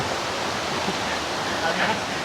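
Huai Krathing waterfall tumbling down many tiers, a loud, steady rushing roar of falling water filling the scene up close, with a voice faintly present.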